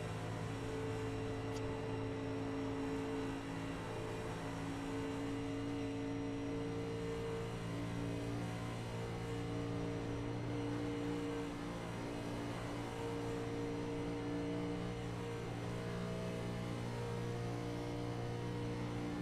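A race car engine drones steadily as cars circle the Daytona track during bump day qualifying for the Firecracker 400, a continuous loud hum with no break and no talk over it.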